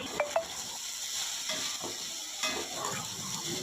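Okra stir-fry (vendakka upperi) cooking in a pan, continuous hissing sizzle with occasional stirring scrapes and a couple of light utensil clinks near the start.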